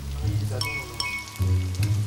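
Steady crackling sizzle of large ginseng pieces frying in hot oil, with low rumbling underneath and brief faint voice-like tones.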